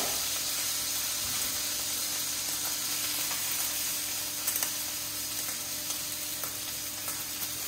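A venison back fillet sears in a hot pan, sizzling and crackling steadily with a few sharper pops and spits toward the end, close and alone.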